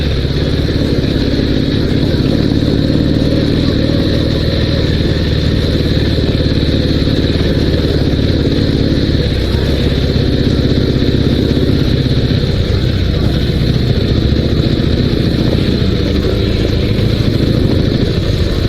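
A Dnepr 16 two-wheel-drive sidecar motorcycle rides along, its engine droning loud and close without pause, with the pitch shifting slightly as it changes pace.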